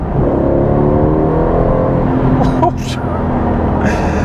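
An Aston Martin Vantage fitted with a 500 hp V8 AMG engine pulls hard under full kick-down on a road, a loud continuous drone that swells steadily, with brief higher rasps and shifts near the end.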